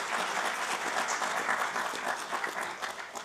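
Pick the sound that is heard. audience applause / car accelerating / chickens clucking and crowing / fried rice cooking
audience applause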